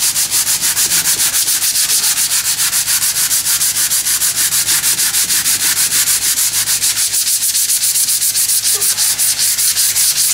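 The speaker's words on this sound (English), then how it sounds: "That guide coat is set enough now that I can start sanding this back" Guide coat being sanded back on a Bridgeport car repaint, a fast, even, rhythmic rasping of abrasive strokes on the panel, loud and close, with no talk.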